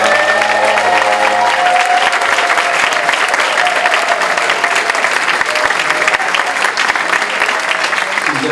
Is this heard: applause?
yes